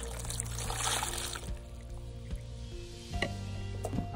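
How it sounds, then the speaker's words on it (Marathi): Pumpkin being washed in water: splashing and sloshing up close, with squishy rubbing and trickling as water is handled, fairly soft overall. "सर्वात पहिलं भोपळा आपण स्वच्छ धुवून घेतो."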